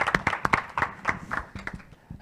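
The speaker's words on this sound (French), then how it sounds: "je crois qu'on peut même applaudir Loïc" A burst of hand clapping from a small group, irregular and fairly close, with no voices over it.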